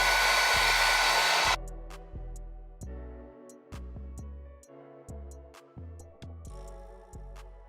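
A blow dryer runs with a loud steady roar for about a second and a half while securing a glued lace wig. A series of sharp clicks follows as its settings are switched back and forth, and no one speaks.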